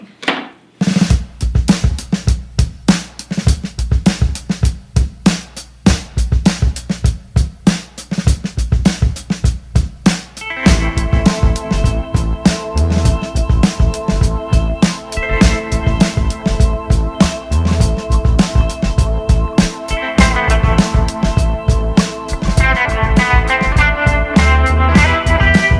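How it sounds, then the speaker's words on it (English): Knife chopping and rocking through kale on a cutting board, giving a fast run of close, sharp taps with a steady rhythm that continues alone for the full stretch. "So we're gonna grip in and start chopping"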